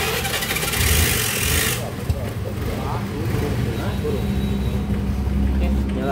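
A Honda Vario 125/150 scooter engine cranks and catches, then settles into a steady idle close by, with people talking over it.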